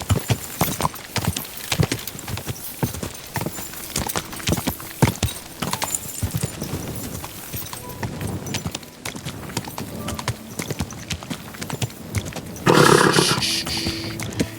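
Rapid horse hoofbeats clatter in a steady galloping rhythm in the video game Kingdom Come: Deliverance II, fairly close and loud, with a louder burst of noise near the end.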